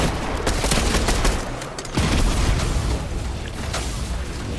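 Dense, continuous gunfire and booming cannon shots in a Fortnite match fill the scene with loud, overlapping blasts and rattling bursts, with no let-up.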